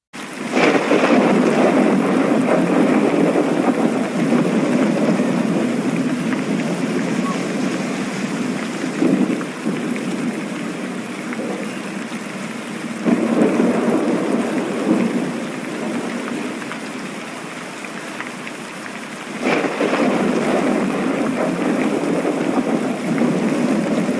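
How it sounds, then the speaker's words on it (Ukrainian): A thunderstorm with steady, loud rain and several rolling thunder rumbles spread across the stretch, the downpour continuous throughout with no talking. "Так, це гроза."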